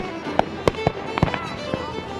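Fireworks burst repeatedly at Ottawa's Canada Day celebrations, sharp irregular bangs and crackles over a dense, continuous roar of noise, heard from a distance amid a crowd.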